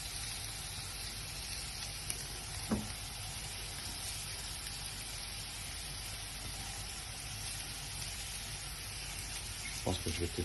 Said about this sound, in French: Alors maintenant, je vais y mettre donc mon riz, que je vais étaler un peu partout.